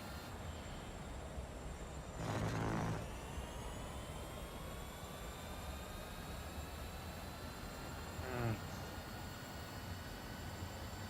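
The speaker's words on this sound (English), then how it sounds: "You can hear the car." A steady, high-pitched racing car engine whine from Real Racing 3 drones throughout with slowly shifting tones, joined briefly by a couple of rougher bursts.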